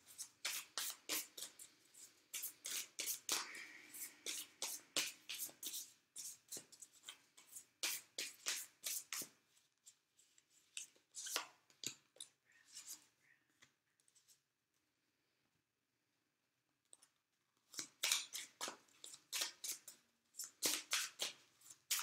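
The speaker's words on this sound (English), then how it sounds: "we're also going to get you your Animal Spirit Oracle cards as always" Animal Spirit Oracle cards are handled up close in dense bursts of quick papery shuffling and riffling, which break off into a near-silent pause before resuming.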